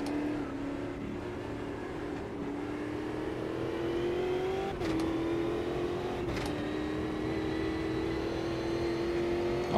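A big old race car engine drones and slowly climbs in pitch at Interlagos in the Automobilista 2 video game, held steady with brief shift breaks, loud and continuous with no talking.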